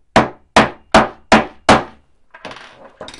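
Five sharp, evenly spaced hammer strikes on a Vauxhall flip key ring out loud and close, followed by a few softer, lighter taps.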